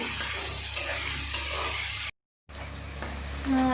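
Steady sizzling of onion and spices frying in hot oil, close by, with a brief silent gap partway through.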